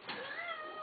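A small cat gives a single close, clear meow that lasts under a second, with no talking.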